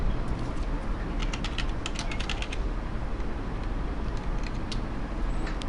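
Rapid, uneven clicks of someone typing on a computer keyboard, close by and steady over a dull background hum, with no talking.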